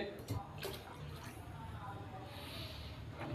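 Water, about 1.5 to 2 kilograms, pours into a pot of lentils for dal, a continuous splashing gush at moderate level, with faint voices in the background.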